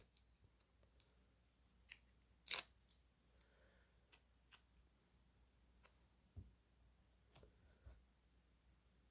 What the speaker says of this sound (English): I have a little thread sticking out. I'm going to snip that off.